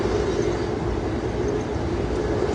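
Passenger train cars rolling along at speed, a steady dense rumble with broadband rail noise heard from inside the carriage, continuous and fairly loud throughout.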